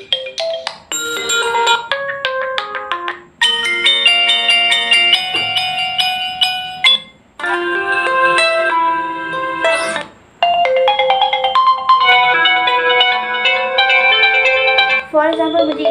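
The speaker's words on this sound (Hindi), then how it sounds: "आप यहाँ से कोई सा भी रिंगटोन लगा सकते हैं" Ringtones on an Oppo A11K phone playing one after another, loud and close: bright electronic melodies with bell-like notes, each tune cut short by a brief pause before the next begins, with no talk.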